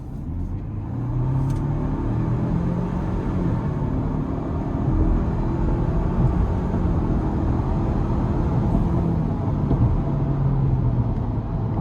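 A 2025 Ford Ranger XLT FX4 accelerates in sport mode, its engine droning loud and close from the cabin with pitch rising and falling through successive gear shifts under a steady road rumble.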